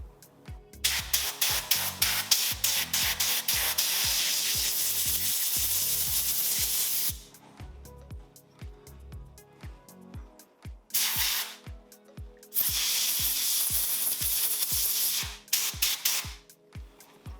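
Compressed air blasts debris off a wooden gun stock during a restoration, a loud steady hiss broken by short pauses, with faint clicks and bumps in between.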